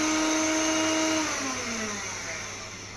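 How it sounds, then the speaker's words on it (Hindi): An electric hand beater runs steadily and close by, its motor whine holding a constant pitch before dropping and sliding lower as it slows, used to clean itself after working chocolate in a cheesecake baking class. "ऊपर रख के आपको बीटर चलाना है ताकि क्लीन हो जाए"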